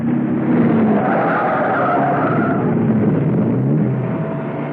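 A car brakes hard and skids as it swerves off the road in an audio drama scene, a continuous loud engine roar and tire scrub that holds steady for several seconds before easing slightly, with no voices.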